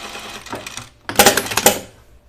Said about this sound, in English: So I'm just going to run a line of stitching here.